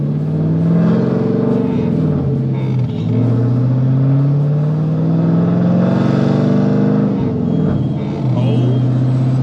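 Manual Corvette V8 with an equal-length exhaust, rumbling close and loud as the engine is revved repeatedly, pitch rising and falling in steady swells over a deep idle, with no talking over it.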